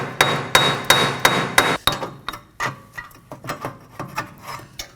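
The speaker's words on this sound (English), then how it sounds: "Now to remove our bearing and hub assembly from the knuckle, I'll be striking it with a hammer." A series of sharp metallic hammer strikes on a rear wheel hub and bearing assembly in the knuckle of a Nissan Maxima, evenly spaced and loud at first, then quicker, lighter blows continuing in a steady rhythm.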